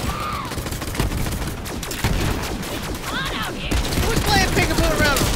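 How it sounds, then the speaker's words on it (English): Borderlands 3 firefight with enemy gunfire coming from unseen shooters, a dense run of rapid shots and bursts mixed with whooshing game effects and music, loud and continuous throughout with speech faintly present. "Can't see what's shooting me?"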